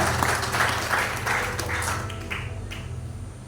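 Congregation clapping hands in a church during a Good Friday service, a dense wash of applause throughout with a few sharper individual claps standing out, steady and moderately loud before fading slightly toward the end.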